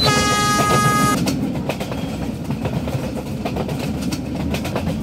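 An Indian train in Indian Train Simulator, hauled by a WDM3D diesel locomotive, runs on its rails. A sustained horn blast sounds for the first second, then a steady rumble with rhythmic clickety-clack continues, loud and close.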